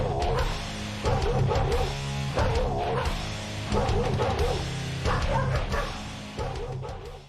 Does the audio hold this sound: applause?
no